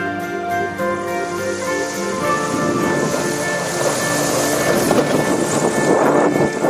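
A small airplane touches down on a 160-meter island airstrip in Vanuatu, its engine a steady tonal drone under growing wind and rushing noise, loud and close.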